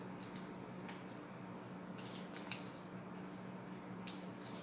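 Scissors snip through folded paper while rounding off the top of a Sunday School craft cutout. Several faint, brief cuts come spaced apart over a quiet background hum.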